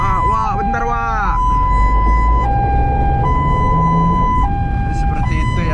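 A loud, close ambulance siren cycles through its two-tone hi-lo pattern at a red light, over a constant low traffic rumble, with a short burst of talk at the start.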